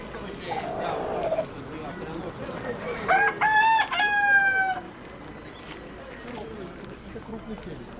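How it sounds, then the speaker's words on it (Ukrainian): A rooster crows loudly nearby, a long drawn-out call, amid background clucking of hens and a voice talking, at an outdoor market fair in Dnipro. "Курки, півні качки."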